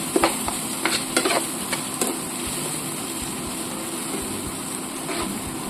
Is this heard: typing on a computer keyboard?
no